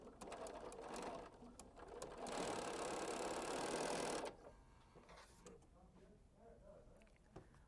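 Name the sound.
sewing machine stitching quilt pieces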